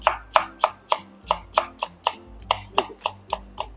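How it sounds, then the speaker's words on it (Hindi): A knife chops cabbage on a board in a quick, steady series of about fourteen sharp, close taps, each striking evenly with no voices over them. "इस तरीके से हम काट सकते हैं कैबिज को।"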